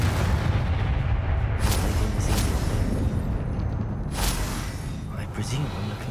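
Confringo blasting-spell explosions boom in the video game Hogwarts Legacy, dense and loud, with repeated bursts and crackling blasts piling up over continuous low rumble across the whole stretch, with voices mixed in.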